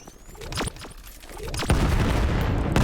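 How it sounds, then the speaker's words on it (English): Grenades detonate amid gunfire in the shooter game Vail: a sharp blast early on, then a heavier, louder explosion that rolls into a sustained, dense roar, all close and intense. "Grenades coming out back and forth."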